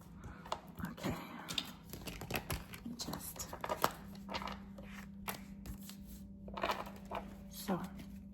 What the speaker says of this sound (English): let's shuffle them and let's get the best card to clarify and summarize our reading